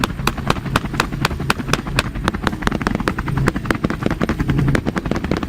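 A helicopter flies low over fields during a wild boar hunt, its rotor producing a rapid, loud train of sharp thumping pulses close by.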